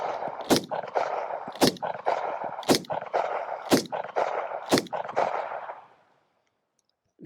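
Colt King Cobra revolver firing Federal jacketed semi-hollow point rounds outdoors, six loud close shots spaced about a second apart with echoing tails, then silence.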